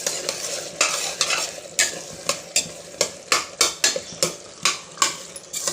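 Tomatoes for tomato rice are sautéed in oil, a spoon scraping and clacking against the pan in a quick, regular rhythm over a constant sizzling hiss.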